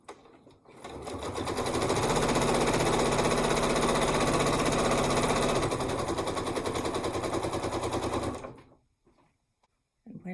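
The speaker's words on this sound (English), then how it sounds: "And now I just stitch along this seam" A sewing machine stitches a seam on a barn quilt, a loud rapid continuous whir-clatter lasting about eight seconds before stopping abruptly into near silence.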